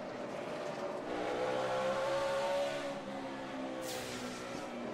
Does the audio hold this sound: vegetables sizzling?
no